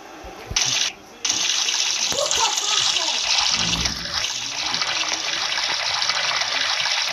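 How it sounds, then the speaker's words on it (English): Shower water runs steadily in the Roblox Brookhaven game, a loud continuous hiss of spray that fills the whole stretch after a brief dip near the start. "In the shower. Washing myself. Washing my body, washing my hands"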